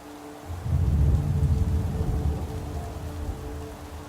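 Rain pours in an American football video game while a low thunder rumble swells early and slowly fades, loud and continuous with steady rainfall underneath, no voices.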